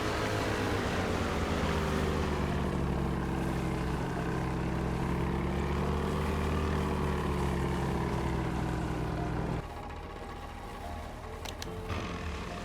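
Boat engine droning steadily in the video game DayZ, a loud continuous motor hum with a throbbing, propeller-like tone that drops slightly in level near the end, no voices over it.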